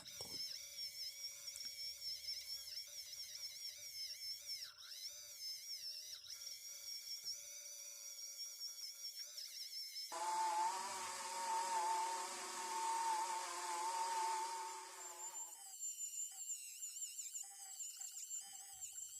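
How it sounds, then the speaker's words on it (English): Bench buffer whining steadily as a restored Coes wrench is pressed against the wheel, a high-pitched motor tone that shifts and grows louder midway, then settles back, with no talking. "And onto the buffer to clean it up."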